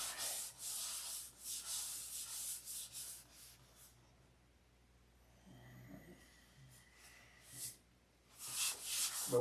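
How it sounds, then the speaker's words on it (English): Rhythmic back-and-forth rasping of sandpaper rubbed by hand on a wing, close up, pausing midway with quiet shuffling before the scratchy strokes resume. "But we ain't done sanding."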